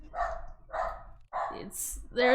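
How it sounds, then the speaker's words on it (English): A dog in the Minecraft video game gives a short series of loud, close barks, about four in an uneven rhythm, with a little talking mixed in. "He's a loud barker."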